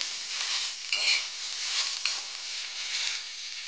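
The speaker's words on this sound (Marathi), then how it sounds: "आणि मग यावर टाकूया सोयाबीन. हे असेच फ्राय करून घेऊया." Soybeans fry in a pan with a pinch of salt for a Marathi egg and soybean bhaji, giving a continuous bright sizzle, with a few stirring scrapes and light utensil clinks near the start.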